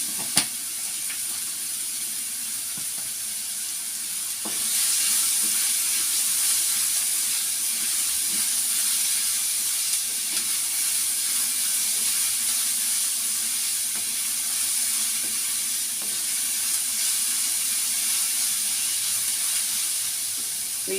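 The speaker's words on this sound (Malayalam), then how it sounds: "സവാള വേഗം വഴന്ന് വരാനായിട്ട് ഒരിത്തിരി ഉപ്പിട്ട് കൊടുക്കുക." Sliced onions with a pinch of salt fry in a pan for a Kerala-style prawn roast, giving a steady hissing sizzle that swells louder a few seconds in and runs on without talk, with faint stirring clicks.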